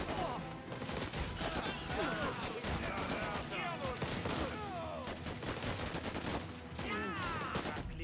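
Gunfire crackles in the video game Last Train Home, with a machine gunner's rapid bursts and volleys of shots running continuously over busy battle noise throughout.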